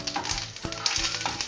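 Breadfruit frying in a pan, a steady close crackling sizzle with bursts of spattering and occasional scraping stirs, no voices.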